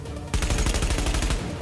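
Rapid automatic gunfire in The Division video game, loud and dense with rattling bursts that continue steadily after a sudden start.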